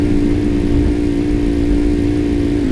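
A car engine in a road-trip driving video game hums steadily at a constant pitch, loud and close, with no voices over it.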